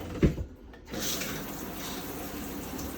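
Water runs steadily from the shower in a Wildwood 42VIEW destination RV, a continuous hiss that starts after a brief knock and carries on alone at moderate level.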